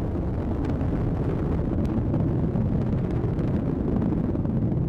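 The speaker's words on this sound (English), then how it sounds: "Booster engine continues to operate as expected." Atlas V rocket booster engine roaring during a satellite launch, a constant loud, rumbling broadband roar with crackling texture, steady throughout and heard without voices.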